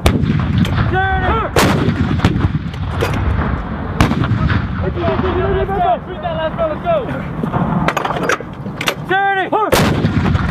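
U.S. Army artillery of the 4-319 firing during the Dynamic Front exercise: several loud, sharp booms spaced across the clip, with shouted voices and harmonic whistling tones between the blasts.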